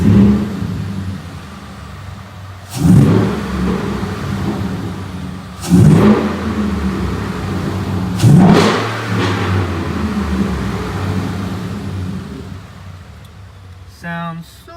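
A warm 2014 Ford F150 with a 5.0 V8 and a JLT cold air intake revs hard three times between steady idling, each rev a loud, short throaty surge close to the listener.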